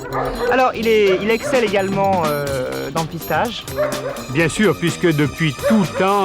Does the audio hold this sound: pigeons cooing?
no